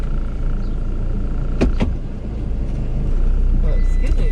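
Steady traffic rumble on a city street, with cars passing close by and a louder vehicle swell near the middle, and people talking underneath throughout.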